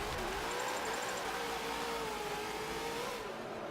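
A race car engine in Forza Motorsport 7 revs steadily while its wheels spin, a sustained mid-pitched whine that rises and falls slightly, fairly quiet and heard alone.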